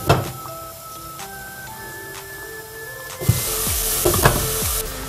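Potatoes and Argentine chorizo boil in a pot, with bubbling and sizzling that swells into a dense hiss about halfway through. Stirring knocks come in bursts, and faint tonal beeps sound in the background.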